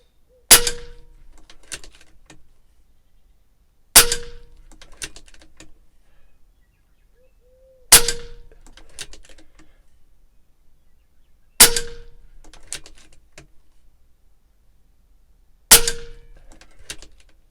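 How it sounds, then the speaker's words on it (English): A Cattlemen M1 fires a full clip at 25 yards on a calm day: five sharp, loud reports spaced about four seconds apart, each followed by a metallic ringing decay and near-silence between shots. "We're just going to shoot a quick clip here."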